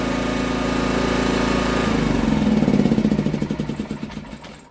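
A Honda EX1000 generator under service and load test, its small engine running with a steady buzzing drone that grows rougher and more pulsing toward the end, close to the microphone with no talk.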